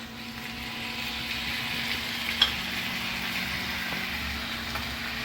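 Two sliced tomatoes sautéing in a pan for a bread paneer roll filling, a steady, soft sizzle with a low background hum and one faint clink partway through.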